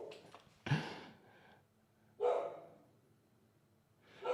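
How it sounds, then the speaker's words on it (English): A pet dog barks in three sharp, separate bursts spaced a second or two apart, fairly close but moderately quiet, with near silence between the barks. "Hear my dog going nuts."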